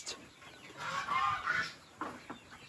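Chickens cluck and scratch nearby in a rainy farmyard, a soft continuous mix of low clucks and rustling with a couple of sharper calls near the end, no one speaking.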